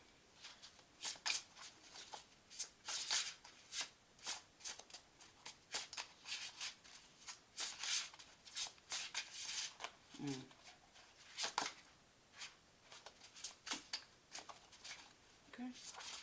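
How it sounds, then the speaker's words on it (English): Tarot cards shuffled by hand, producing a steady run of soft riffling and slapping bursts, close and quiet, with some talk mixed in. "when I was shuffling the cards earlier"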